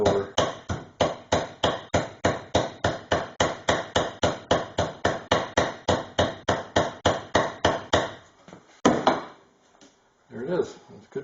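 Steady rapid hammer blows peening over a rivet end while installing a Cadillac rear side window channel, about four per second, close and loud, then stopping with some handling noise.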